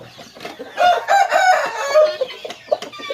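A breeding rooster of the Light Sussex or Silver Sussex type crows loudly and close by in one drawn-out call, with softer clucks before and after and no talk.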